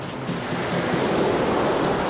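Steady roar of ocean surf breaking nearby on a beach before sunrise, a continuous broadband wash with slow swells and no voices.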